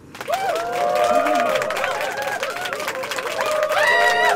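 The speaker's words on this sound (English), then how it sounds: "Give her a round of applause." A small group claps and cheers for the winner of a spicy chicken sandwich eating challenge, loud and close, with excited whooping voices rising over the clapping throughout.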